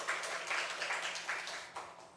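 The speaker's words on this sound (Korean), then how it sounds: "우리 하나님께 영광의 박수 올려드리겠습니다." A church congregation at a Sunday worship service claps together in a soft, diffuse wash of many hands, steady and moderately loud with small swells.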